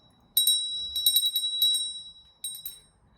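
A small copper bell rings in several quick bursts of bright, clear tinkling, with short pauses between shakes, close and alone with no talk.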